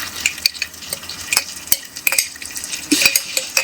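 Onions sautéed with ginger garlic paste for biryani are stirred in a pan. A spoon scrapes and knocks against the metal in irregular bursts of sharp clinks, over a soft sizzle close by.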